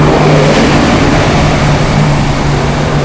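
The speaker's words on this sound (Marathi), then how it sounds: "दिवा गाडी आहे, दिवा गाडी." A Diva local train passes on the Konkan Railway line near Ukshi station, a steady loud broadband rumble with a sustained low hum throughout, close and continuous with no voices.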